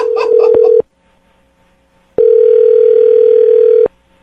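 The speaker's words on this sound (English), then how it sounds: "I just dialed the phone number." A phone being dialed: a rapid series of keypad tones and a brief steady tone, a pause of near silence, then a long, loud, steady dial tone.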